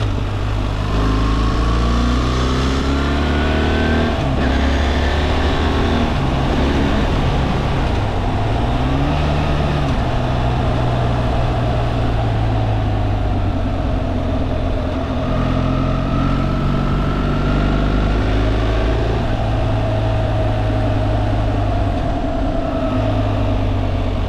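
A BMW 1300 GS Trophy motorcycle is ridden with its quickshifter, the loud engine rising and falling through quick gear changes over constant wind and road roar.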